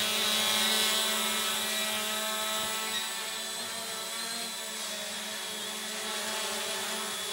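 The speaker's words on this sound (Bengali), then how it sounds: "এই হচ্ছে সেই ড্রোন।" A steady, loud whirring hum of a drone's rotors with bright high tonal whine, flying over a school playing field, holding close throughout.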